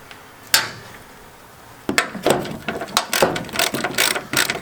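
A socket wrench ratchets on bolts during heavy-duty work on a vehicle hose fitting, with one click, a pause, then a run of quick irregular ratcheting bursts close by.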